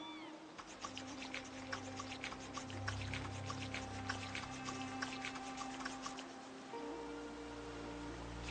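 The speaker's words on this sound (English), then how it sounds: "So what I'm going to do for the moment is I'll just wash myself up." A Project Zomboid character washes up with water, giving a steady liquid trickle and splashing with a low rumbling bed underneath. The sound stays constant and moderately quiet throughout, with no talking.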